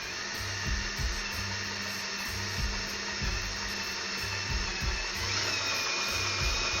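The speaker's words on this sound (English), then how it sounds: "And when you're drilling metal," A drill bit bores a small hole in metal, giving a steady close whir of broadband hiss over a low motor hum that pulses in short, uneven surges, with no voices.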